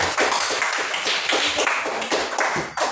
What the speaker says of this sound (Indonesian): beri apresiasi tepuk tangan